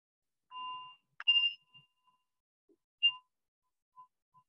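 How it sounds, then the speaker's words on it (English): A single meditation bell is struck to open a practice session, a clear ringing tone with a short attack and fading resonance, followed by a few faint later chimes in near silence. "I'll ring the bell once to start and once to end."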